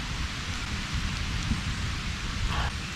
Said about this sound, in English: there's like a light rain going on